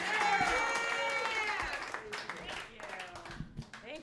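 Comedy club audience in Times Square clapping and cheering for a comedian coming on stage, loud applause at first that thins into scattered claps as a voice begins talking.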